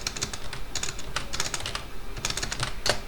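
Steady typing on a computer keyboard in a classroom lesson setting, with quick bursts of key clicks and short pauses, fairly close and continuous with no talking.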